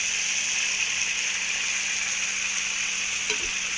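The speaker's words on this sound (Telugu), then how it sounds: "అండ్ టమాటాలు కూడా వేసేసుకుంటున్నాము" Tomatoes sizzle in a hot pan of drumstick, brinjal and potato curry, giving a steady, close frying hiss that runs evenly throughout with a faint stir near the end.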